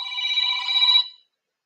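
A telephone ringback tone sounds on an outgoing call, a single steady electronic ring burst that stops after about a second, leaving silence.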